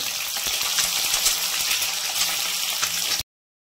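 A boiled egg sizzling in hot oil with turmeric, a steady, loud frying hiss with small pops, close and unbroken until it cuts off.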